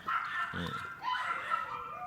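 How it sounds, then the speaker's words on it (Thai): A dog barks loudly several times in quick, uneven bursts, with yelping, whimpering tones mixed in over a quiet background. "หมาเห่าดังมากครับแสดงว่าอยากมาเล่นแน่ๆเลย"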